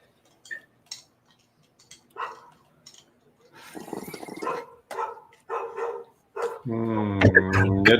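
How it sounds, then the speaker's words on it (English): A dog barks in short, separate bursts close by in a room, followed by a louder, sustained howl-like vocalization at the end. "The dog's a barking there, Troy."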